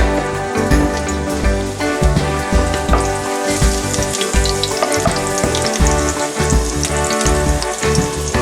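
Garlic fries in hot oil for a Filipino chicken tinola, giving a loud, continuous close-up sizzle and crackle that holds steady throughout.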